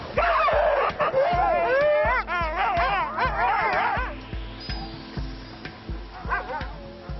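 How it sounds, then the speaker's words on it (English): Arctic sled dogs bark and yip in an excited, overlapping chorus, loud and close, with whining howls early on that give way to sparser barks and whimpers. "Each sled is pulled by up to 10 dogs."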